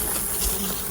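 Honey bees buzz busily around a hive as the workers drive out drones, a close, dense insect hum running continuously through the short moment.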